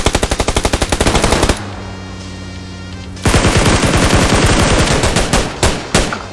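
AKM assault rifle fire in PUBG on the snowy Vikendi map: loud, close automatic bursts of rapid shots, a brief pause with a lower rumble, then another long rattling burst that tapers into scattered single shots.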